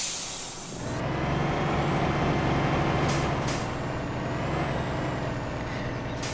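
A Tatra Phoenix truck in the Spintires game releases its air brake with a short sharp hiss, then the engine drones steadily and loudly on its own.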